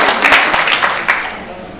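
Steady clapping from a crowd at a Bareunmirae Party leadership election convention goes on beneath a speaker's voice in a large hall, keeping a moderately loud, even wash throughout.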